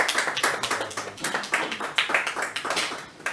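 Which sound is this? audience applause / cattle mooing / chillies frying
audience applause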